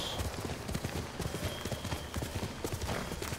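Horse hooves clip-clop in the video game Ghost of Tsushima, a quick steady galloping rhythm of thuds over a busy outdoor game ambience, with no one talking.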